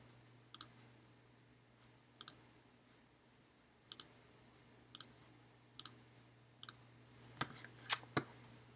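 Computer mouse clicks, crisp double clicks repeating at roughly one- to two-second intervals over a steady low hum, with a few louder clicks near the end, close and quiet.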